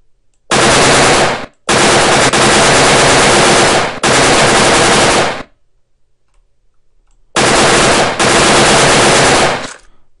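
Rapid automatic gunfire from a Unity 3D shooter being tested, loud close bursts in four long sustained volleys separated by short gaps and one longer silence.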